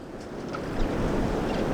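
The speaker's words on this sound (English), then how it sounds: "There are some waves here." Ocean waves wash steadily onshore with a soft, continuous roar and some wind noise at a surf spot on the Pacific, fairly faint and with no voices.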